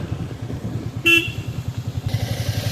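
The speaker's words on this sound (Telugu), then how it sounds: "మేము బైక్ తీసుకొని బైక్లో వెళ్తున్నాను అదే డుర్రు డుగురు గురుగు బండిలో" A motorcycle running along a rough, potholed village road with a steady pulsing engine thrum, close and continuous, and a short horn toot partway through.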